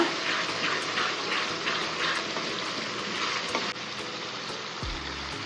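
Tomatoes with turmeric powder sautéing in a pan, giving a continuous sizzle and crackle with occasional stirring scrapes, close and steady, ending with a low knock.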